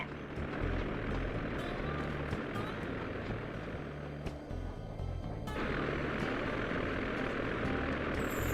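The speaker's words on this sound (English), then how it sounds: "I do like how I literally just paraglided directly into the propeller." A spinning aircraft propeller in a platforming video game makes a steady, low whirring drone with a rhythmic chop, heard close and continuously throughout.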